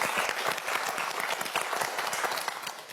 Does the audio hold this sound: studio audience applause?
yes